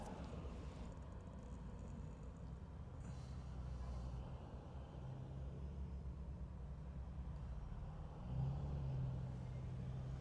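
Low engine rumble and idling hum rise from traffic halted near a multi-vehicle crash on Highway 395 near Main Street, a steady, moderately faint drone with a vehicle swelling closer near the end.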